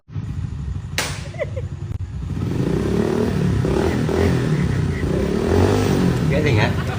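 A motorcycle engine clatters and sputters into a rough running idle after a sharp bang, its uneven rattling rumble continuing steadily up close.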